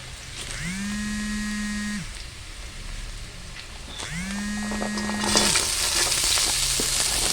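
Kohlrabi, potato and eggplant fry in a pan with onions, a steady close sizzle that grows brighter and hissier toward the end, with two humming electric tones rising and falling over it.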